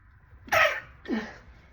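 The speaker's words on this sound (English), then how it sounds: "I feel like I got to sneeze." Two quick sneezes close up, a sharp burst followed half a second later by a softer second one.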